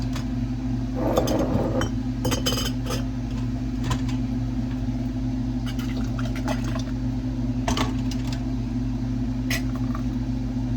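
Glass canning jars clinking and knocking together as they are set into a canner, several sharp chinks in irregular bursts over a steady low hum and faint watery sounds.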